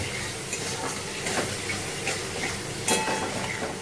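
Vegetables sauté in oil in a pan with a soft, continuous sizzle and occasional stirring scrapes and clatters, one sharper knock near the end.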